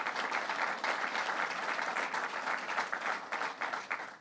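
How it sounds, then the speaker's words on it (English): Crowd applause at a governor's Long Island budget announcement, a dense, steady wash of many hands clapping that holds for several seconds without talk. "Give that a round of applause."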